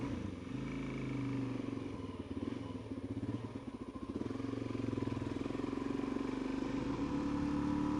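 A Suzuki DRZ400 SM motorcycle idles after a cold start following a week sitting out in freezing weather, a close, steady single-cylinder thump with slight fluctuations in pace.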